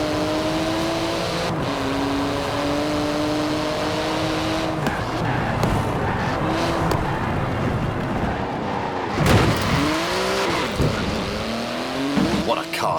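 Video-game engine sound of a 3.8-litre twin-turbo flat-six car making about 700 horsepower, driving in Forza Horizon 4, a steady loud drone with shifting tones and brief dips, under music and some talk.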